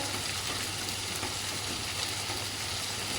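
Onion and pumpkin frying in a pan make a steady, dense sizzle with soft crackling, even and continuous throughout with no talking.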